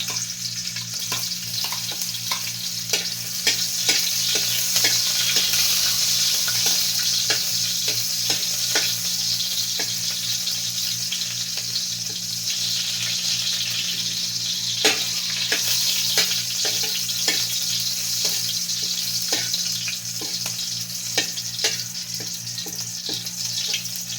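Food frying in a pan for a morning home-cooked meal, with a steady sizzle throughout, continuous and close, broken by frequent sharp clicks and scrapes of stirring.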